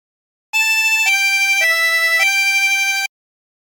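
A chromatic harmonica plays a short phrase of the hymn Be Thou My Vision: four clean sustained notes in a row, close and loud, alone with silence before and after.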